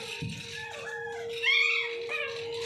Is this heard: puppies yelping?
yes